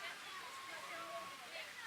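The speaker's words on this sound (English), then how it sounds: "they've got a river rapids over here" Rushing water from a river rapids ride at Hellendoorn theme park in the Netherlands, a steady broadband wash with faint voices murmuring underneath.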